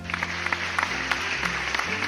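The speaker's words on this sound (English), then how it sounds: "round of applause for Sarah J. Maas, everyone" Short burst of clapping with a few distinct claps standing out over a low steady hum, moderately loud and brief, no voices heard.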